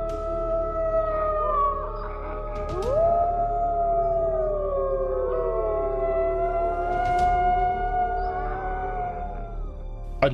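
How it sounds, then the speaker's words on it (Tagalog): Several dogs howl together at night in a Filipino folk-horror drama, their long, wavering howls overlapping and sustained over a steady low rumble, with no talking. "Di nagtagal ay umalulong ulit ang mga aso."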